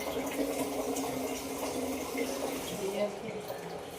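Water pours steadily into a container, a continuous rushing, gurgling flow at moderate level under a quiet voice, with no clear change in pitch as it fills.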